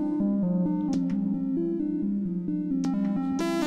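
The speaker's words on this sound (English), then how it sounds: "Second one's kind of like a triangle." A synthesizer oscillator set to a triangle-like wave plays a run of steady, stepping tones, each note held briefly before changing pitch, loud and alone with no talking.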